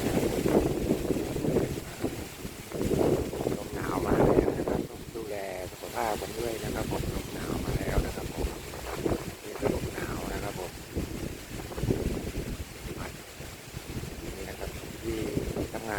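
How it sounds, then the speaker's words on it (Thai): Strong, cold gusting wind rushing through treetops outdoors, a steady broadband roar that swells and eases in waves, close and loud on the microphone with buffeting, while someone talks intermittently over it. "ลมนี้ก็ค่อนข้างจะแรงนะครับผม"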